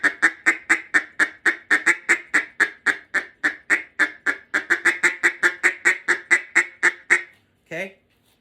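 A Matt Pierce Small Bore Mallard duck call blown in a long, rapid run of about thirty loud, evenly spaced quacks close by, ending with a brief pause and a final short note.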